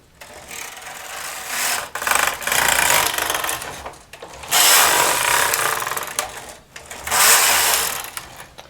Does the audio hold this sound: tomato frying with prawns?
no